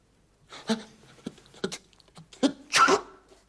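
A short, sharp sneeze from a character in the French cartoon series Les Gammas, bursting out loud near the end after several quieter voice-like bursts.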